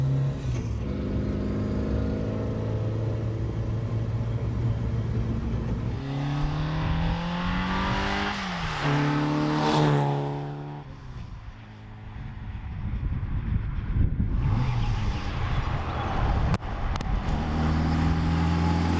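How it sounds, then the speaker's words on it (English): A loud sports car engine revs up through the gears, pitch climbing and dropping with each shift, then surging again. "the sound of this engine is just egging you on to give it the beans"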